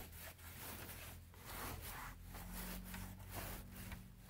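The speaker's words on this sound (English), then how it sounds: "you can go ahead and wipe it in" Turtle Wax Wet n Black tire shine rubbed onto car trim with a cloth, in rhythmic close back-and-forth wiping strokes, quiet and alone.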